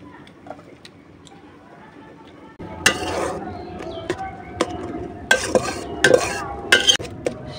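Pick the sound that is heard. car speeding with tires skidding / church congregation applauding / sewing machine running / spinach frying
spinach frying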